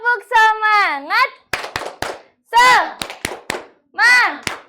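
Children in a classroom perform a rhythmic spirit clap, with sharp, patterned bursts of hand claps alternating with the group's loud chanting voices.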